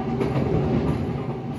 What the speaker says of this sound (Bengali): আমরা ট্রেনে উঠে রওনা হতে না হতেই